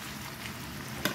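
Yellowfin tuna and pork steak frying in a pan, giving a steady close sizzle throughout with a brief louder crackle near the end.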